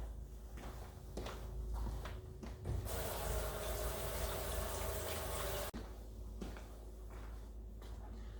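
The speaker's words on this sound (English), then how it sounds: "I'm gonna go ahead and wash my hands again." Water runs steadily from a kitchen tap during handwashing, a loud rushing stream for a few seconds, framed by quieter clunks and handling noises before and after, with no talking.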